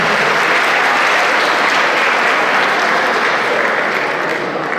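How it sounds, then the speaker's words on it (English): A large audience gives dense, sustained applause at a junior convocation awards ceremony, a loud continuous wash of clapping that fades slightly near the end. "So you can give a round of applause."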